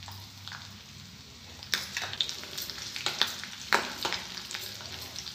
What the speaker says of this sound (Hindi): सबसे पहले डालेंगे हम 1 चम्मच राई, बारीक कटी हरी मिर्च